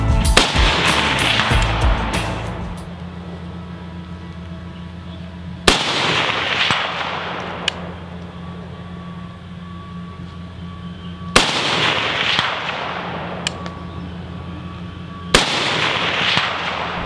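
A JP LRP07 AR10 rifle in 6.5 Creedmoor firing four loud, sharp shots spaced several seconds apart, each one followed by a long ringing echo over a low steady hum. No one speaks.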